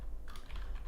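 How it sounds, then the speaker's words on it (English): Computer keyboard typing at a live-streaming desk, a dense run of soft clicks close by, with no talking. "I'm typing into chat while I'm talking at the same time"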